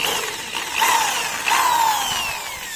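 An electric drill bores a hole while a dual shock conversion kit is installed. It gives a steady, close whine that rises in pitch twice as the bit bites and grinds, with no talking.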